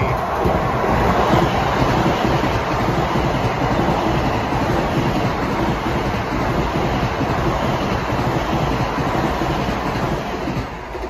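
A Long Island Rail Road train, Grand Central to Ronkonkoma, passes close by at Elmont with a loud, steady rumble and continuous clickety-clack of wheels over rail joints for the full length, no voices.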